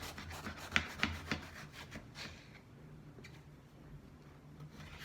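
A peeled eggplant is sawn into slices with a serrated kitchen knife: several quick, rasping strokes close up in the first couple of seconds, then fainter scraping.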